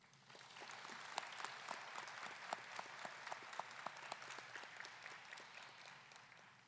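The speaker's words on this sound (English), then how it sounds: "Will everyone please join me in a round of applause for the family and their sacrifices in the defense of our nation." Sustained applause from a ceremony audience at a U.S. Army ROTC commissioning, dense steady clapping with scattered louder individual claps, moderately distant and continuous throughout.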